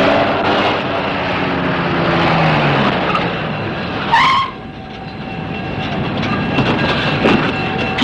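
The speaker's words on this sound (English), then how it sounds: "I think I hear it. It must be our train." A train rumbles and clatters as it rolls in, with a brief high screech of brakes midway and a steady mechanical hum continuing after.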